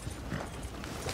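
Horses' hooves clip-clopping in Red Dead Redemption 2, a steady muffled patter of hoofbeats on dirt blended with a dense, noisy outdoor background and no talking.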